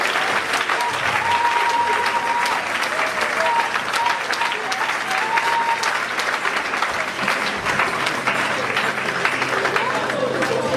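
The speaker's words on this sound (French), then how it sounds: "Acclame très fort pour le Seigneur" A women's convention audience in Liège, Belgium, cheers and applauds loudly and continuously in a hall, with crowd voices mixed into the clapping.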